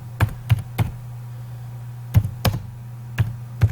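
Keys on a computer keyboard are typed in two quick bursts of three or four crisp taps each, close by, with a low steady hum underneath and a short pause between the bursts.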